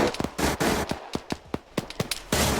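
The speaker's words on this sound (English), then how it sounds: "There's a suppressive fire going." Rapid bursts of suppressive gunfire in the Arma 3 video game, a dense string of sharp cracks and volleys close by, some shots loud and others thinner, overlapping in an irregular rhythm with no talk.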